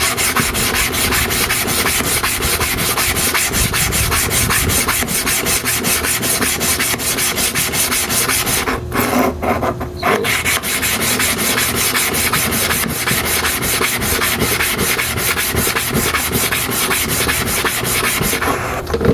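A metal clipper blade rubbed back and forth on a sharpening stone under steady pressure, a continuous close rasping scrape running almost unbroken, with one brief pause midway.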